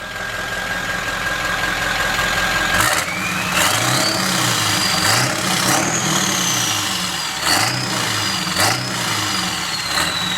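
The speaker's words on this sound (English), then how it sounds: "Rev her up one more time." A 1946 Ford engine fitted with diesel injectors in need of replacement runs loud and close, with a steady whine before the throttle is blipped repeatedly in a rising and falling rhythm of revs.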